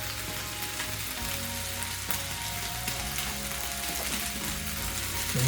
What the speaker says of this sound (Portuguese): Vamos mexer bem mexidinho